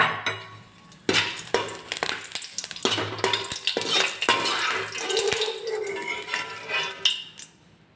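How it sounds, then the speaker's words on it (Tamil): Dried red chillies fry in oil in a kadai for thoothuvalai thuvaiyal, a close sizzle mixed with repeated scraping and clinks of a metal spoon against the pan. "மிளகாயை வறுத்துக்கலாம் எண்ணெயில்"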